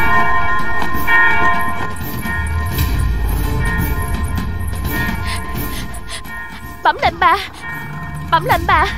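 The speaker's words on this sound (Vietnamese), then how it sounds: "Tiếng chuông kia là gì vậy? Là tin báo thắng trận bẩm lệnh bà." A bell rings out to announce a victory in battle, its sustained tones blending with music in a scene from an Indian Buddhist drama about the Buddha's life; voices speak near the end.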